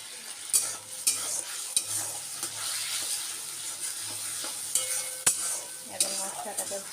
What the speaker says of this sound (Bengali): ভালো করে তেল ছাড়া অবধি আমি কষবো